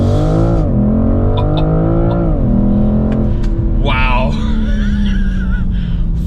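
A BMW M440i xDrive in sport auto accelerates hard from a braked launch in a 0-60 run, its engine note rising steadily and loud, with tire noise and a person talking over the engine.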